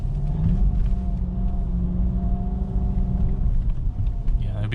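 A BMW 550i rear-wheel-drive sedan on snow tires, its engine giving a steady low rumble from inside the cabin with shifting tonal hum, while people talk over the drive.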